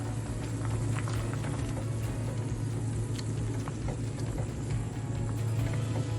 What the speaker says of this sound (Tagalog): Kumukulo na ngayon yung ating tinola.